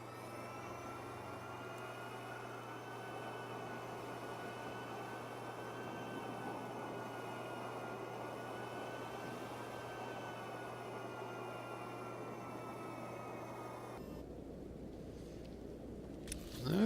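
Speeder vehicle travel in Star Wars: The Old Republic video game, a steady droning engine hum with a low rumble, continuous and even, cutting off near the end to a quieter background.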